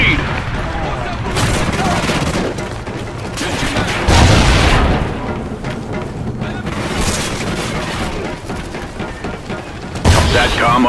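A Trinity rocket strike in the shooter game Call of Duty: Ghosts on the Collision map brings dense, continuous rumbling explosions and gunfire, with heavier blasts near four and ten seconds, loud and unbroken.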